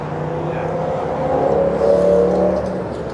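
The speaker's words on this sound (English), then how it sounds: "Goes an M3, just pass it on by." A BMW M3 passes by at a race service coupe event, its engine note rising as it revs and swelling to a peak before easing off, moderately close, with faint background chatter.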